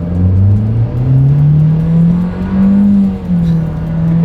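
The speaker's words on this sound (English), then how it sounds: "Let's put the acceleration here to the test, and let's see how quickly we can get this one here up to speed." A 2025 Nissan Versa accelerates hard down a straightaway, its engine droning loud and close with a rising pitch that dips at a shift and then climbs again.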